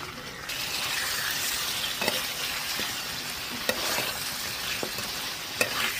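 Fish fries in hot oil for a home-style fish curry, giving a steady, close, crackling sizzle with a few sharp clinks and scrapes at irregular moments.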